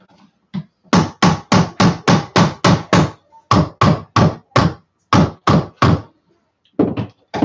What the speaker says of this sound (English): I'm hammering it wrong.